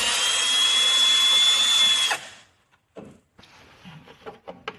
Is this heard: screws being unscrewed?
yes